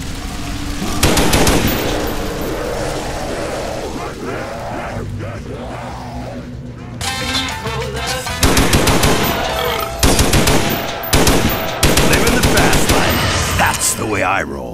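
Gunfire rattles in a Minecraft remake of the Verrückt zombie map. Loud, rapid automatic bursts come and go over about fifteen seconds, mixed with busy game sounds.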